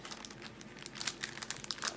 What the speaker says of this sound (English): Get everything out of the wrapping.